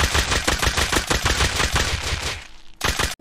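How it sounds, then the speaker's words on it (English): A nail gun in Rust fires in a fast, even stream of sharp, loud shots for over two seconds, then stops, followed by a brief clatter and no talking. "you can actually beam people with a nail gun"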